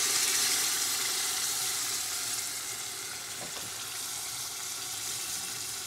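Blended sauce goes into a frying pan for mutton biryani. A broad, steady hiss and sizzle starts strongest and gradually settles, with one brief clink partway through and no voices.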